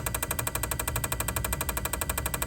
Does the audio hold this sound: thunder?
no